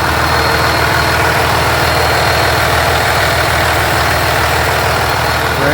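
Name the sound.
truck with brand new engine idling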